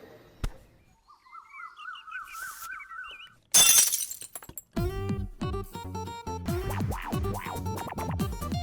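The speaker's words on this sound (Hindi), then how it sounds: "मेरा कांच का ग्लास तोड़ दिया।" A glass tumbler shatters in one loud, sharp crash midway through, set between quieter chirping tones and busy background music.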